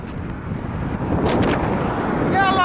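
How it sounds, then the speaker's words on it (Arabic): Loud, steady wind rushes across the microphone during a bicycle ride in Qatar, a continuous blustery roar with no clear break. "هوا قوي قوي قوي."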